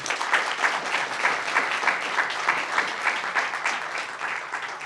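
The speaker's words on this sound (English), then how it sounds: "I'm going to ask for a round of applause for our panelists." Audience applause for a conference panel at the close of a session, a steady dense wash of clapping from a sizable crowd, fairly close and sustained throughout.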